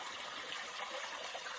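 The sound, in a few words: water flowing in a canyon creek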